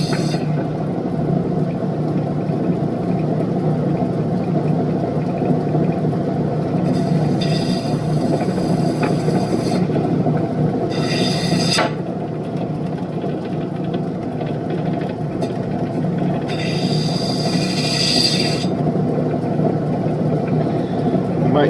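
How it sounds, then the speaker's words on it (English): A lapidary grinding wheel whirs continuously as it cuts and thins the backing of a No. 8 turquoise stone, a loud steady motor drone with several bursts of harsher scraping where the stone presses against the wheel. "I'm going to cut into the backing, thin it down a little bit."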